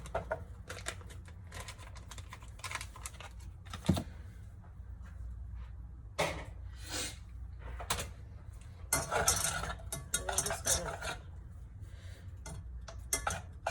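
About three tablespoons of butter stirred in a pan into a sauce until it emulsifies, with irregular light clicks and taps of a utensil against the pan over a soft steady background.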